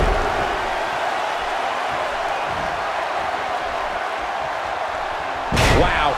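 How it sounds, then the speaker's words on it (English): A wrestler body-slams an opponent onto the ring mat at a WrestleMania fatal four-way match, one heavy thud near the end that rises out of a steady roaring arena crowd. "He just slammed him with ease."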